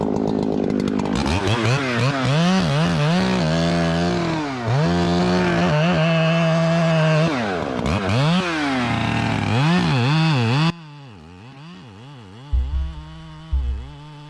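A chainsaw drops a poplar tree uphill with a Humboldt notch, the engine droning loud and steady for about ten seconds before easing back to a lower, rougher idle with a couple of short revs near the end.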